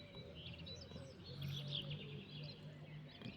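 Small birds chirp and tweet in the early spring morning in Szolnok, Hungary, with a dove cooing among them. The calls are light and scattered over a low, steady background hum.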